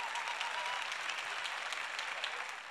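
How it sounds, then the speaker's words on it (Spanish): Audience applause fills the air at the Fiesta Nacional del Chamamé 2016, a steady dense clapping from a festival crowd that holds at an even level throughout without any break. "A ver el aplauso,"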